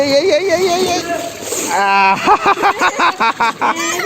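A small child is bathed and dunked in water, with splashing and sloshing under a close adult voice that talks throughout, then a run of rhythmic watery bursts.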